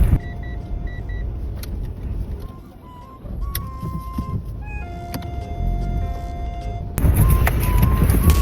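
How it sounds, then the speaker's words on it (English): A 4x4 car rumbles along an off-road track, its engine low and steady with interior rattles and electronic beeps and chimes over it, growing louder near the end. "I'm testing my 4x4 off-road."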